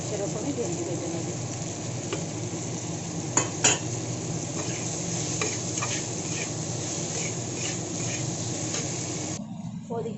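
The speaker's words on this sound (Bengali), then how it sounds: "এখন আমি ভেন্ডিটাকে খুব সুন্দর করে ভেজে নেব" Okra (bhindi) sizzles steadily in hot oil in a pan, a close, continuous frying hiss with a few brief scrapes and clinks of stirring.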